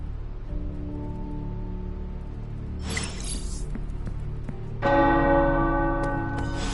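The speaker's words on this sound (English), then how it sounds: "The tower bells are ringing." Tower bells ring out over a steady low rumble. The tolling grows fuller and louder toward the end, with overlapping tones that sustain.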